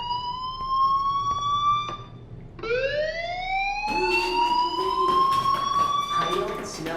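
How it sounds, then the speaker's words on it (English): A school fire alarm in the video game Life Is Strange wails with a rising, siren-like tone that sweeps up again and again, loud and steady, while voices talk over it. "do you hear that fire alarm?"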